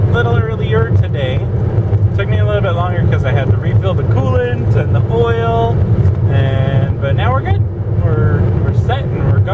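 A car drives along a road with a steady, loud rumble of engine and tyre noise and some wind buffeting, while a person talks continuously over it.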